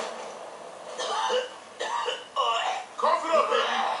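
Several harsh coughing bursts in the video game Gears of War 3 come in quick succession, close and loud, with short pauses between them.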